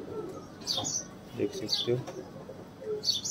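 A kalanch border pigeon, a pink-beaked male, gives soft cooing calls close by, broken into short bursts while someone talks over them.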